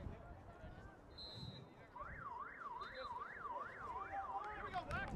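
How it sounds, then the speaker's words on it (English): A wailing emergency siren with a regular rising-and-falling sweep sounds from far off at a lacrosse game, faint beneath a commentator's talk and crowd ambience. "Little sirens there."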